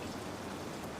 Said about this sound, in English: Outside, the rain keeps its steady rhythm